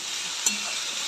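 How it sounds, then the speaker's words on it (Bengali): Stem greens (data shak) frying with garlic in a pan, a steady broadband sizzle with one brief clink of a utensil partway through, close and alone without talk. "তবে দড়া এটার ডাঁটা শাক ভাজা হচ্ছে"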